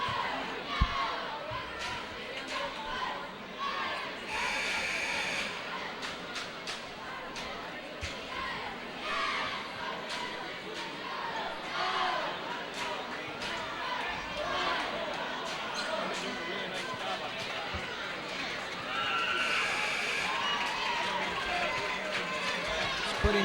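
Crowd in a high school basketball gym at a 1988 game at Whitehall, a steady roar of chatter and shouting with sneaker squeaks and scattered bursts, under a commentator's talk.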